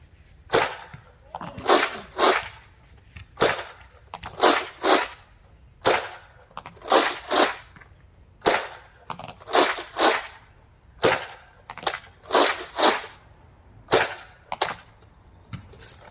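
A Nerf shotgun fires bursts of foam rounds, sharp snapping shots grouped in quick clusters of two to four, repeating steadily and loud up close.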